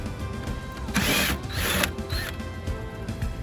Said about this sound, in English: we're going to take our same 13 millimeter here. I think that's 13, yep. And we're going to pull out these screws here